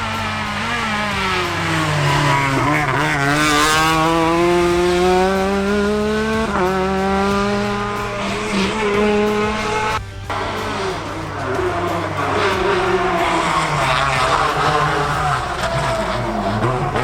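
A Renault Clio 3 R3 rally car drives hard, its engine revving up and down through gear changes while the tyres skid and squeal. The roar stays loud and close for the whole run, with no voices heard.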